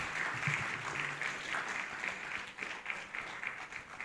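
A conference audience at Rethink Africa 2025 applauds in a dense, steady wash of clapping that holds for the whole stretch without easing, close and full, with no voices over it.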